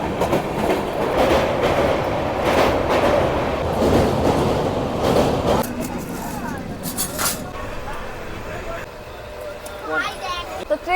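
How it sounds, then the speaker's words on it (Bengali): Humsafar Express train rolling along the rails inside a carriage, with a steady clickety-clack rumble throughout and voices murmuring faintly underneath. "তো ট্রেন ছেড়ে দিয়েছে, প্রায় 1 ঘন্টা হতে চললো।"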